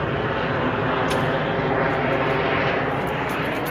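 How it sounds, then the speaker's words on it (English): An airplane passes overhead as a steady, loud broadband engine roar that holds for several seconds outdoors, with no talking. "Let this plane go by."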